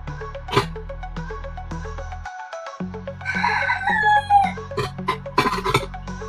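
Roosters crow loudly nearby, one long crow rising over other clucks and calls in a busy outdoor setting.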